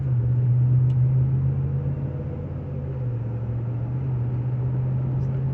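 A car cruises on a highway with a steady low engine rumble and road noise filling the cabin, fairly loud and continuous, without talk.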